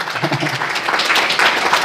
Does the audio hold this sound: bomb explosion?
no